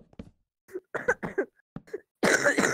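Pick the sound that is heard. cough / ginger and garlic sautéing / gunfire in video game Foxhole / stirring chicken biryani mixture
cough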